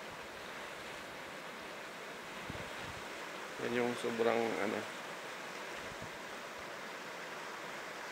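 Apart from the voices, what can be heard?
boiling water of Daclan sulfur spring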